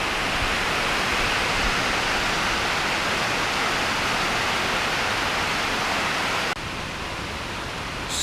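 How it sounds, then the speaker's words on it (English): Heavy rain pours down outside an open workshop, a dense, steady roar filling the whole stretch with no pauses, dropping slightly in level near the end. "pouring down rain."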